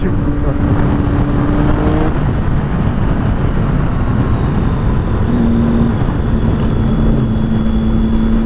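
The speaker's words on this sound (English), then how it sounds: "He did a wheelie" A motorcycle engine drones steadily while the rider pulls a wheelie on a scenic Lincolnshire country route, loud close engine and wind rumble with a voice talking over it.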